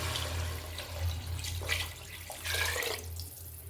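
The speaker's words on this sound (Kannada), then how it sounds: "ಈಗ ನಾನು ಇದಕ್ಕೆ ನೀರನ್ನು ಸೇರಿಸ್ಕೊಳ್ತೀನಿ" Water pouring into a pot of rice for a beans rice bath, a steady broadband splashing that swells and eases in a few surges, with a low hum underneath and no talk.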